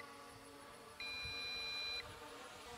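MJX Bugs 5W GPS drone sounding its low-battery warning at about a quarter charge, a single thin, high electronic beep lasting about a second over faint background hum.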